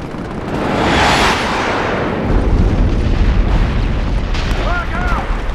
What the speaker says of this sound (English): Enemy airstrike inbound